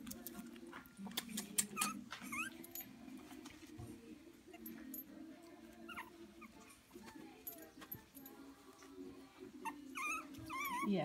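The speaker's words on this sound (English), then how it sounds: "You're happy puppies." Four-week-old puppies whimpering and yipping in a litter, a scatter of thin, high, short cries and squeaks over soft rustling and patter, with a voice talking gently in between.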